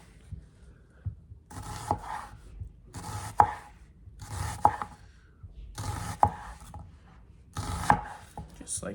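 A knife slices onions on a cutting board into thick half-inch pieces for pork chops with caramelized onions: about six firm, evenly spaced chops, each a short crisp crunch and knock against the board, close and clear with quiet pauses between.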